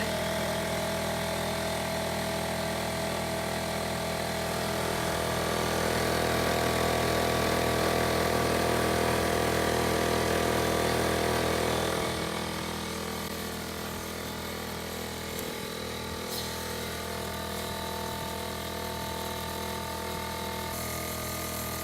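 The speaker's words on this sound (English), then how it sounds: "what did you do with the compressor?" An air compressor runs continuously during camper winterizing, a steady droning motor hum that rises slightly then settles, close by with no talk.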